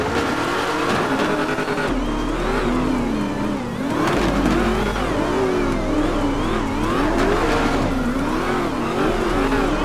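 A Dodge Charger engine in a video game roars loudly and continuously, its revs rising and falling in repeated surges. The car is close, and no one speaks.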